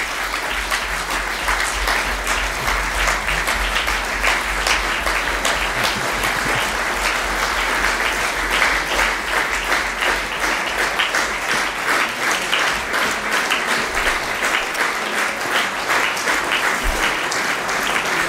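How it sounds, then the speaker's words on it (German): Sustained applause fills a state parliament chamber after the election of the minister-president of Mecklenburg-Vorpommern, a dense, even wash of many hands clapping that holds steady for about eighteen seconds without talk. "Applaus."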